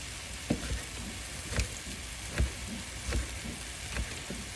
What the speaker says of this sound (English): So my next batch of burgers is cooking.